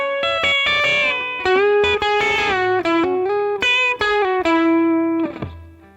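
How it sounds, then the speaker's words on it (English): Electric guitar plays a longer pedal steel style lick with repeated string bends and releases over ringing harmony notes, slightly distorted and effects-treated, picked steadily for several seconds before the last note decays. "Now for the final pedal steel lick, we're going to combine the 2 licks we said before"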